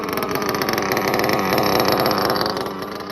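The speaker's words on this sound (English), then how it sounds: "listen to that thing idle" A small Nitro OS XRB engine idles with a loud, rapid, buzzing rattle that stays steady before easing slightly.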